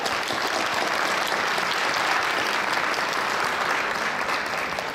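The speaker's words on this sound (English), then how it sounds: "Let's give them one last round of applause." An audience gives a steady, full round of applause for honorees at an India Day 2016 event, thick continuous clapping throughout with no talk over it.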